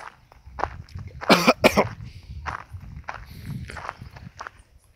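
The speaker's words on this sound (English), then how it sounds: "My apologies for the coughing." A person coughs a few times in a short cluster, fairly close, amid quiet rustling and shuffling footsteps, on a countryside walk in St. Thomas, Barbados.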